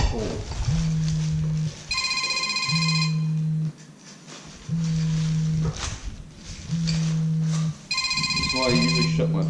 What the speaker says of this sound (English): we got so rudely interrupted by the telephone that rings nonstop